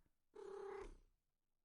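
A cat purrs under a desk in the video game Dialtown, a single soft low rolling purr lasting about half a second, faint and close, surrounded by near silence.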